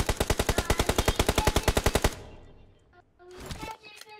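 Rapid automatic gunfire in the PUBG Mobile video game, a fast burst of about twenty evenly spaced loud shots that cuts off, followed by quieter game sounds and a brief later noise.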